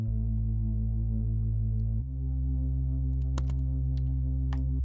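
Layered sub bass and bass from an electronic pop production, a deep sustained tone that shifts pitch once midway, with a few faint clicks near the end; no voices.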